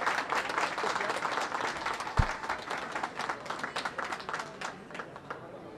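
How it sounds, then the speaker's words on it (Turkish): A crowd at a Cappadocia cultural association event applauds the provincial governor, a full, even round of clapping that includes one sharp thump and tapers off toward the end. "Alkışlarınız Sayın Valimiz için"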